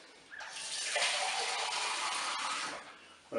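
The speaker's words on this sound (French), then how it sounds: "je vais ajouter l'eau." Water pours steadily into a Cookeo pot holding aubergines, a close hissing gush that swells quickly, holds for a couple of seconds, then cuts off abruptly.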